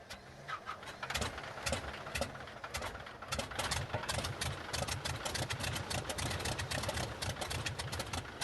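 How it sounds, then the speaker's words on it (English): A Wasp Junior radial piston aircraft engine coughs and sputters as it starts, then settles into a loud, steady, rumbling idle with rapid popping firing pulses. "Yeah, the Junior Wasp was such a glorious engine."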